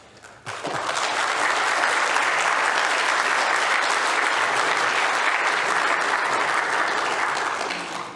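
A conference closing-session audience bursts into applause, a loud dense wash of many hands clapping that starts abruptly and holds steady until it tapers at the very end.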